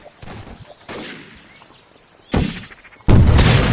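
Video-game gunfire erupts in loud, close bursts, starting with scattered shots and building to heavy sustained volleys near the end, with almost no talk.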